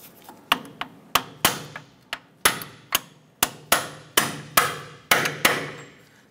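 Hammer tapping bolts into a 1994–2004 Chevrolet S10 upper control arm mounting bracket, about fifteen sharp metallic strikes in an uneven rhythm, each ringing briefly, close and loud.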